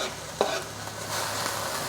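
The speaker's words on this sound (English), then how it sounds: "Just want to stir fry it until it's a bit fragrant." Garlic and ginger stir-frying in a wok for mapo tofu, a soft, steady sizzle with a brief clatter of stirring near the start, close and quiet, with no talk.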